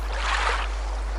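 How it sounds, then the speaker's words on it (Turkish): A brief, soft wash of water, like a small wave rolling in and receding, over a constant low hum. "Evet, dalga sesi."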